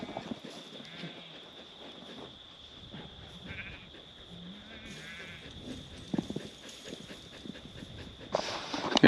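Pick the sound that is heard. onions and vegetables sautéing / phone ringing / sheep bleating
sheep bleating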